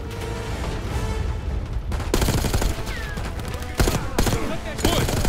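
Bursts of rapid gunfire and heavy booms from the video game Call of Duty Black Ops 6, loud and close, coming in dense volleys with short gaps, while voices shout over the firefight.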